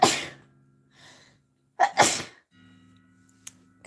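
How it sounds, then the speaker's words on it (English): Two loud sneezes from a person live-streaming an art session, the first at the start and a second double-burst sneeze shortly after, close to the microphone, with quiet breaths and low hum between. "Wait, I'm gonna sneeze."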